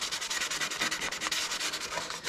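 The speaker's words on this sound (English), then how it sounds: "I'm going to lay my other shop towel down and sand on top of that towel." A plastic edge is hand-sanded on top of a shop towel, a fast rhythmic scratching of back-and-forth strokes, close and steady with no talk.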